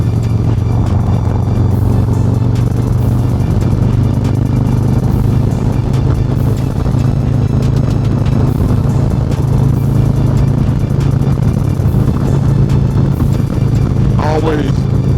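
Harley-Davidson Road Glide motorcycle riding in traffic, its engine a steady loud low rumble throughout with wind and road noise and no clear revving.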